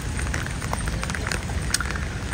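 Constant rain after a week of downpour falls as a steady wash of drops and patter on surfaces, with no voices and no break throughout.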